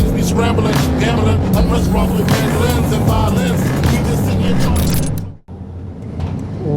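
A 1990 Chevrolet 454 SS pickup truck on a test drive, with a continuous loud engine and road rumble inside the cab plus rattles and creaks, cutting out briefly near the end.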